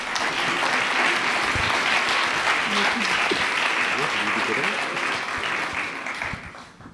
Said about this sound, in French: Je crois qu'on peut vous applaudir également.